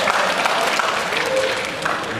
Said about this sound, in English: You clapped at the right time